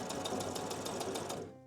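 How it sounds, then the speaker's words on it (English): A sewing machine stitches a fabric dollhouse with brown bobbin thread, a steady rapid rhythmic whirring of needle strokes that stops abruptly near the end, close and clear. "So I have sewn along the bottom to close everything up"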